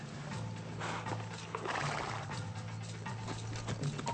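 Horses picking their way across rough, soft ground on a wilderness tracking trail, hooves plodding steadily with a whinny or neigh rising partway through, fairly close and continuous under outdoor background noise.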